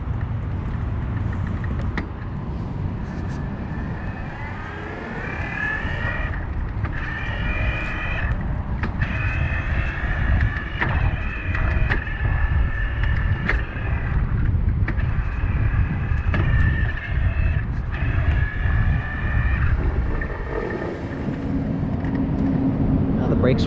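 A 2019 Raleigh Detour iE electric bike motor whines at its highest assist level during a ride, a rising and falling electric hum under wind rush and road noise, with someone talking over much of it.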